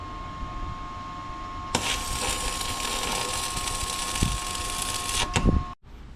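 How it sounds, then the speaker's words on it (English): A welder tack welds a steel step for a camping trailer, producing a steady crackling, sizzling burst of about three and a half seconds over a faint constant hum, ending with a few clunks. "So I'll just tack weld this in."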